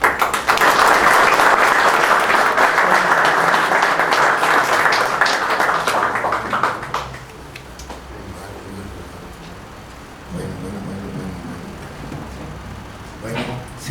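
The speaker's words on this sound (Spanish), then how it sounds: "vamos a recibir con un aplauso al ingeniero Coliñón Orozco" Audience applause welcoming an engineer to present his admission work at a formal ceremony, a loud dense burst of clapping for about seven seconds that fades into room murmur and quiet talk.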